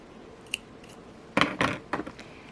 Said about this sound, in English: And now I will take the scissors, cut